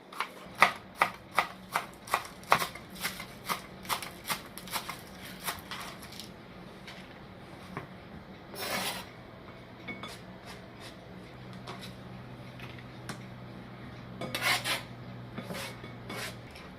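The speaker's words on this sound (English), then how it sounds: "I'm going to chop my onions." Onions are chopped with a knife on a board in a home kitchen, a run of quick sharp taps at first that settles into softer, spaced cuts and scrapes, close and fairly quiet.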